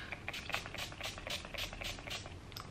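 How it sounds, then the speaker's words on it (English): Several short hissing bursts of face setting spray come in quick succession, close and soft, with no one talking. "i'm just gonna spray my face"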